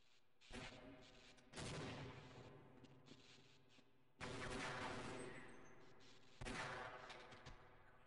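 Rifle gunfire in the video game Half-Life, loud repeated bursts of rapid shots in three or four long volleys separated by brief pauses, with a dense ringing tail, no talking.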